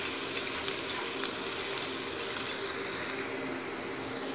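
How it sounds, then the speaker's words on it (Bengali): Chopped onion frying in oil for a pomfret fish masala curry gives a steady, close sizzling hiss. It holds evenly for several seconds with no talking. "পেঁয়াজটাকে কিন্তু সোনালি রং আসা পর্যন্ত খুব ভালোভাবে ভেজে নেব।"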